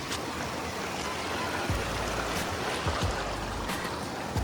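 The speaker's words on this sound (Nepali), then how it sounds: "यो खोला हो, त्यहाँदेखि तर्न पर्ने" A mountain stream rushes steadily nearby, a constant broad watery hiss with occasional low thumps and splashes from people crossing on foot.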